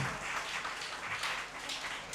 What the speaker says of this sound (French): Acclamez pour lui.